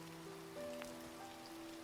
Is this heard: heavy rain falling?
yes